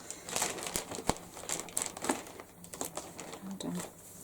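A plastic bag holding yarn from a Hobbii yarn haul is opened, with crinkling and rustling that comes in bursts of small crackles, close up and soft, mixed with light handling noise.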